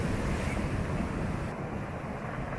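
Rough, angry sea breaking near Portland Headlight, a continuous loud wash of surf mixed with wind rumble and no voices.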